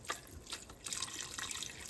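Chicken stock, 32 ounces, is poured into a pot for zuppa toscana, a close, continuous liquid splashing and gurgling that runs throughout without talk.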